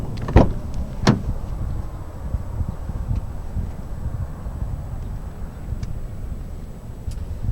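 A 2022 Nissan Murano being unlocked and its door opened: two quick, sharp clicks near the start, then a low, steady rumble of outdoor background.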